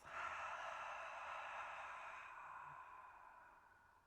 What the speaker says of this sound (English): and exhaling through the mouth